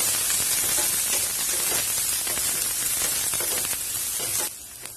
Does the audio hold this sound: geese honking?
no